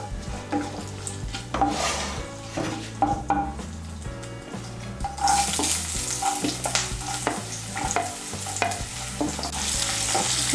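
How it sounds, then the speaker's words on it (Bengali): Finely chopped carrots stir-fried in hot oil over tempered spices in a pan for paneer fried rice, with steady close sizzling and repeated spatula scrapes and stirring throughout, rising louder toward the end. "গাজর কুচিটাকে তেলের সঙ্গে মিশিয়ে নেব"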